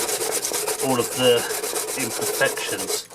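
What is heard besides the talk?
sanding Suzuki Bandit dash light lens with sandpaper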